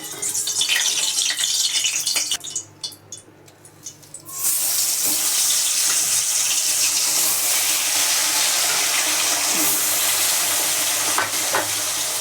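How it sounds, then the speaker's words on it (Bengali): Bhola fish frying in hot oil make a loud, dense sizzle close by, dipping briefly for a couple of seconds before returning strong and continuous. "ভোলা মাছগুলো ভাজা ভোলা মাছগুলো ভাজা হচ্ছে"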